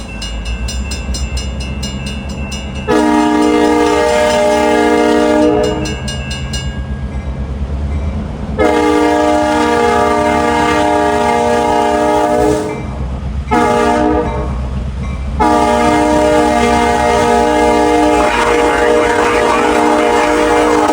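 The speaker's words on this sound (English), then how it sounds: "I believe that's a prime 920 horn." A locomotive horn, a Prime 920 model on a freight train in eastern Pennsylvania, sounds loud and close in several long chord blasts with short breaks, over the low rumble and clatter of the passing train.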